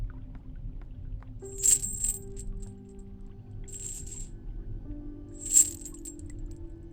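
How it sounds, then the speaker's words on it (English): Metallic chain clinks in The Hand of Glory, a ship setting: two short bright jingling bursts, one early and one later, with a softer rattle between, heard faintly over a low droning background. "I heard the clinking of chains coming from outside."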